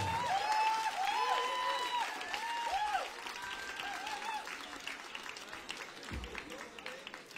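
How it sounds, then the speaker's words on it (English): Applause and some cheering for the Zimbabwean competitors Kweseka at a live event, fairly faint and spread out, with a voice and music at the start. "A well-deserved round of applause for our Zimbabwean competitors, Kweseka"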